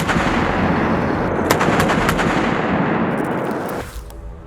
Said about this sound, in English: 30mm cannon.